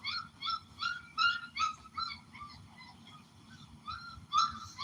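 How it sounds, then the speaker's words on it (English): Three young puppies whine and cry for their mother, who is close by, in a run of high, repeated whimpers in short bursts, fairly near and alone with no talking. "Them puppies want they mama. And she right there and they still hounding and a crying."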